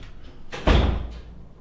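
An apartment door left not fully closed swings and bangs in strong wind, giving one loud close thud with a rattle that rings and fades after a softer creak of movement.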